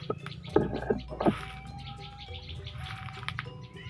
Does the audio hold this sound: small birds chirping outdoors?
yes